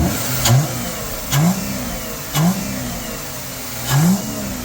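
An older car with a just-repaired misfire runs steadily at idle, then revs up in four short, even bursts spaced about a second apart, nearby and clear, with no talking.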